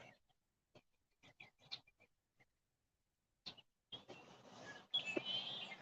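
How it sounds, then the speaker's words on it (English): Birds call in open countryside outside the town of Esparto just after sunrise: faint, scattered chirps and short calls with gaps of quiet, then a louder burst of rustling and trilling calls at the end. "And you can hear the birds"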